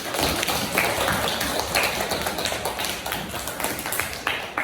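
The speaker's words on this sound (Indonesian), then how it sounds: "Beri plus tepuk tangan." Classroom clapping from a group of students after group presentations in an Islamic studies lesson, a dense, steady patter of many hands lasting several seconds, fairly close and loud with a few sharper taps standing out.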